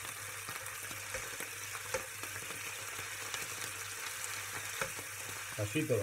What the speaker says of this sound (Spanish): La carne se me está dorando, ¿veis? Pues ahora le doy la vuelta.